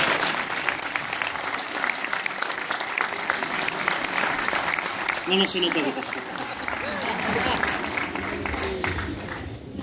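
A crowd at a Star Wars fan convention in Argentina applauds a Princess Leia cosplayer. The sustained, dense clapping continues throughout, and a presenter's voice is heard over it.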